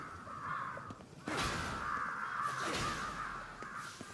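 Crows cawing in the video game Ghostwire: Tokyo, harsh repeated caws layered over one another against a faint ambient hum, with a louder burst partway through and no talking.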